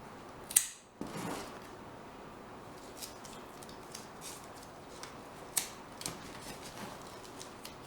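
Scissors snip the excess edges off a hexagonal popsicle stick frame held with masking tape, giving a few sharp, close cuts, most distinct near the start and again midway, amid quiet handling noise.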